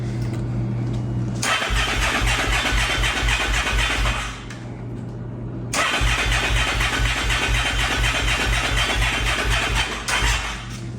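An abandoned motorcycle engine cranks over on a jumper pack in two long, loud bursts of steady rapid starter churning, separated by a brief pause and ending in another short break, heard close up with no talking.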